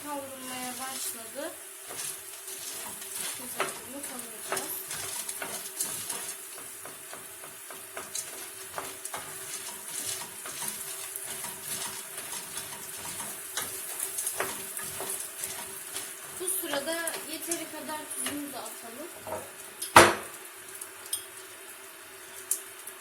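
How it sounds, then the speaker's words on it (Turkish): Onion, pepper and minced meat sauté in a pan for baked pasta, giving a steady close sizzle with light stirring clicks and one sharp clatter near the end. "soğanımı biberimi ve kıymamı güzel bir şekilde kavuracağım"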